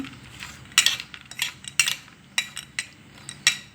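A metal spoon clinks repeatedly against a dish while mixing freshly squeezed lemon juice into food, sharp irregular taps close by with quiet pauses between them.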